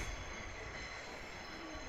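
A train at a Japanese station platform: a steady rumble with wheel squeal and rail noise running throughout, fairly close and sustained.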